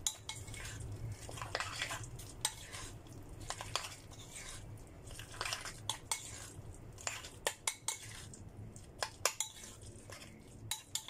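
A utensil stirs corn fritter batter with spring onions in a bowl, giving a steady run of scraping and clinking taps against the dish, fairly close with no talking.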